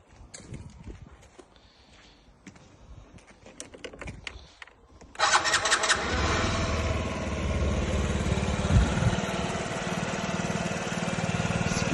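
A Yamaha Jog SA56 ZR fuel-injected scooter engine starts about halfway through after some light clicks and handling noises, then runs at a steady, buzzy idle, close and loud.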